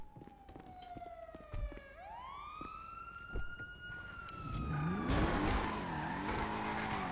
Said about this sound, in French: J'entends les sirènes, préparez-vous.